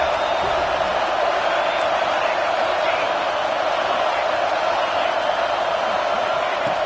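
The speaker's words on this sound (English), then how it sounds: "And here comes the noise. This crowd is trying to inspire this defense to make a big red zone stop." A stadium crowd roars steadily at a college football game, Texas playing, urging the defense toward a red zone stop, with a dense wash of sustained cheering and whooping the whole time.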